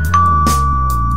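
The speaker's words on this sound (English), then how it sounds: "let me ring this bell" A doorbell chimes once, a clear ringing tone that holds steady and fades slowly over a low, steady background hum.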